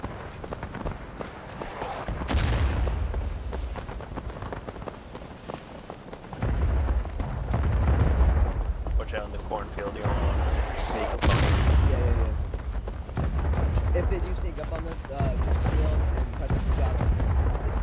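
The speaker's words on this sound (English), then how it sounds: "God, and more artillery fire coming down." Artillery fire in the Civil War game War of Rights, heavy booms and rumbling blasts sounding at intervals, some sharp and close, others distant, over a constant din of battle with someone talking at times.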